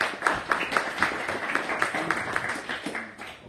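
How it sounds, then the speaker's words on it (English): An audience at a special meeting on emergency response planning gives a round of applause, dense steady clapping from many hands that keeps an even level for the whole stretch. "give them a round of applause"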